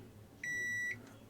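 A multimeter gives one short, clean electronic beep while testing a fuse on a Nintendo DSi with a charging fault, clear against a quiet low hum.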